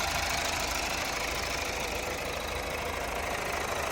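A Mazda CX-5 engine idles steadily with a dense, even rumble, close by and constant throughout.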